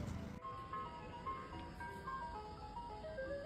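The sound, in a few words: ice cream truck playing its jingle at night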